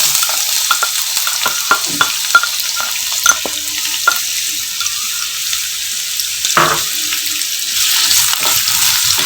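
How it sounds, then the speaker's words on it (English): Onion frying in hot oil for a chicken fry, a loud, steady sizzle close up with intermittent spatula scrapes and stirring knocks, crackling continuously throughout. "Fry the onion till it turns to pinkish."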